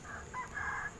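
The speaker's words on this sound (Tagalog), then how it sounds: "medyo maingay po yung manok ano" A rooster crows briefly in a short, faint, rising call with a couple of breaks in it.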